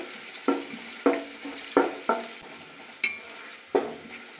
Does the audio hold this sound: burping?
no